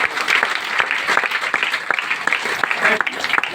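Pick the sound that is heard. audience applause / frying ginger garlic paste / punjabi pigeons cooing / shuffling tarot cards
audience applause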